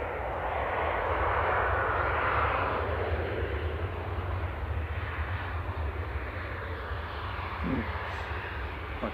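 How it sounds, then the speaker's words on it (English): An EasyJet Airbus A320 Classic arriving from Jersey touches down at Manchester Airport, its engines a broad, steady roar that peaks early and then slowly eases, with no talking. "EasyJet 728 from Jersey just touching down. GZTG A320 Classic."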